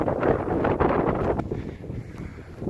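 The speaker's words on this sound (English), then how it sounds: "it is super windy today" Strong winter wind gusts on a hiking trail in Garden of the Gods, Colorado, rush and rumble against the microphone, loud and unsteady, easing slightly toward the end with no speech.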